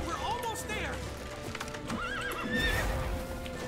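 A horse whinnies repeatedly while hooves clip-clop underneath, amid The Witcher 3: Wild Hunt game music and a voice speaking.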